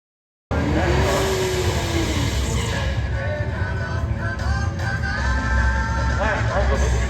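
LS-swapped E39 BMW wagon launching down a dragstrip, a loud engine roar that rises through the gears after a sudden start, with tire noise and voices mixed in underneath.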